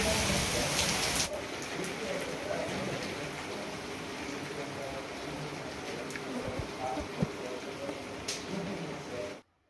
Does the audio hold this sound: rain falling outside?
yes